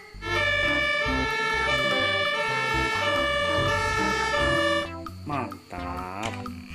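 A loud wailing fire-truck style siren from a toy fire truck, with steady harmonic tones, then it cuts out into shorter rising electronic whoops.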